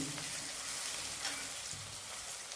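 Okra (bhendi) fries dry in a pan without water, giving a continuous soft hiss of sizzling oil with faint stirring underneath.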